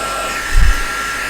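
A heat tool blows a steady airy whoosh over the back of a card to warm embossing powder, lasting about a second and a half with a brief low thump near the middle.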